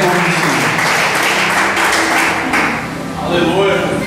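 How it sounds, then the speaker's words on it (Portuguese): A church congregation applauds during a worship service, a loud, dense wash of clapping with shouting voices mixed in. "Quem crê nisso, aplauda o nome de Jesus."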